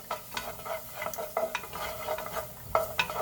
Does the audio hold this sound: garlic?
yes